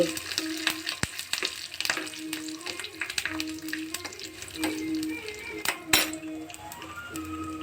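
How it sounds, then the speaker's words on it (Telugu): Whole spices tempering for curd rice crackle and pop in hot oil, a dense run of sharp sputters over a steady sizzle, with occasional clinks of a utensil against the pan. "చిట్పట్ అని ఎంత బాగా శబ్దం వస్తుంది కదండి"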